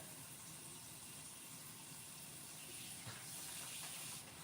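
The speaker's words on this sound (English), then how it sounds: "I'll turn the water cold. I need cold water." Water runs steadily from a kitchen sink tap in a continuous soft hiss, fairly faint and even throughout, with no voices.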